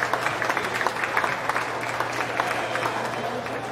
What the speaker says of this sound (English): Will you please give them a round of applause?